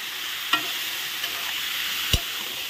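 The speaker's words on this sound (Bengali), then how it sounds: "এখন মশলাটা কষিয়ে নেই, এর মধ্যে দেবো আবার লবণ হলুদ" Spice paste being fried with soybean chunks in a pan gives off a steady close sizzle, broken by a couple of sharp spoon or spatula knocks against the pan.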